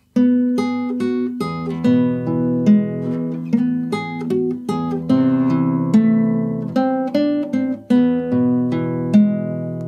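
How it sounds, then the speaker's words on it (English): A melody on acoustic guitar in standard tuning, with plucked notes ringing over a low bass string, played clearly and at a moderate, steady pace. "My guitar's in standard tuning and the first line of music sounds like this."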